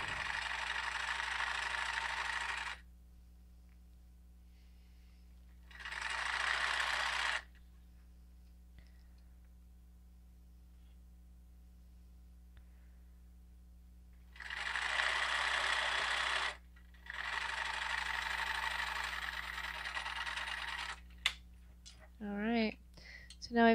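Sewing machine stitching around the edge of a flour sack towel in three bursts of fast, even whirring separated by quiet pauses, close and clear, with faint handling clicks near the end.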